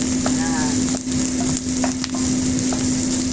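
Garlic and ginger sauté in a hot pan for chicken adobo, giving a continuous close sizzle with occasional scraping stirs and a steady background hum.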